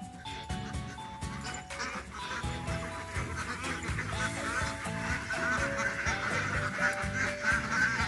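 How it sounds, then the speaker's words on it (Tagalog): Flock of domestic ducks (itik) on a farm quacking continuously, a dense overlapping chorus of many birds close by, steady and loud throughout. "Ito yung mga itik."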